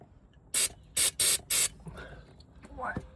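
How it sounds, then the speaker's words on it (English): Four short, loud hissing bursts of brake cleaner sprayed onto a Discovery 3 4.4 V8 engine during an oil change, followed by quieter clatter and movement. "Just giving it a clean up with a bit of brake cleaner."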